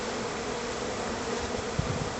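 A honeybee swarm buzzes densely around a beekeeper in a bee suit, a continuous close, loud drone of many wings with no break and no voices.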